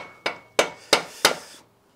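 Four sharp metallic taps of a hammer on a screwdriver, evenly spaced and close, working on a BSA D7 Bantam motorcycle clutch housing, then a brief ringing fade into quiet.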